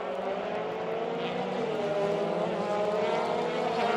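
Formula racing cars at the Jerez circuit, a steady engine drone with layered harmonics holding at even loudness throughout, distant and continuous with no talk.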